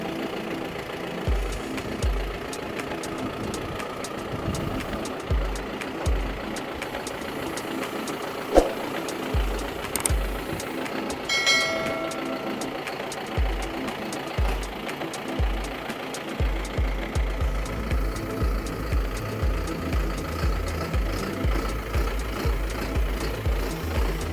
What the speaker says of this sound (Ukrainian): дуже плавно і чітко працює.